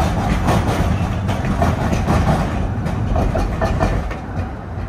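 A Budapest tram pulls away along the Danube embankment with a steady low rumble and a rhythmic clatter of wheels over rail joints, loud and close throughout, with no talk.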